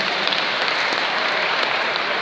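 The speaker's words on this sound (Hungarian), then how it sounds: "Nagy tapsot neki!" Audience applause at a sausage festival in Békéscsaba, the Kolbászolimpia: dense, steady clapping from a large crowd, loud and continuous throughout without pause.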